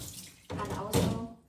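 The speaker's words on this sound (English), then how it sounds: "drain the water." Kitchen tap water running into a sink while vegetables are rinsed, a short burst of splashing flow that starts abruptly and swells briefly before fading.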